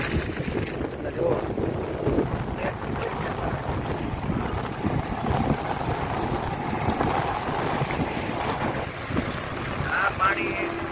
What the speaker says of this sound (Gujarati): જુઓ પાણી છે ધમધોકાર.